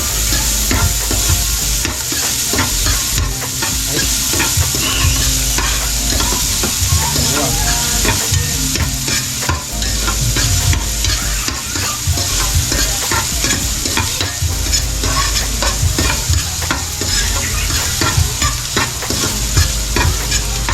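Ginger fries loudly in a pan as it is stirred, a dense continuous sizzle and crackle close by with constant scraping and stirring noise, no talking over it.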